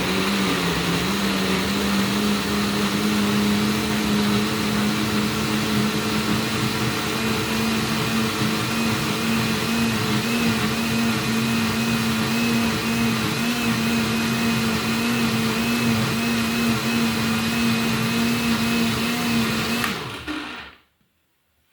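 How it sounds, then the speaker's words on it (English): A blender runs continuously on coconut cream and sauce ingredients for a coastal grilled-fish coconut sauce, a steady loud motor whir with a stable pitch for about twenty seconds before cutting off abruptly into silence. "we'll just go ahead and blend this"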